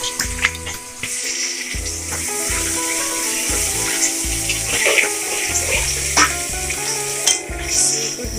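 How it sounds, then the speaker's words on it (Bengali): Pointed gourd (potol) rubbed with salt and turmeric sizzles steadily as it fries in a covered pan, a continuous close crackle with occasional stirring clinks, under music with no talk. "ঢেকে দিচ্ছি, ঢাকা দিয়ে দিয়ে ভেজে ফেলবো।"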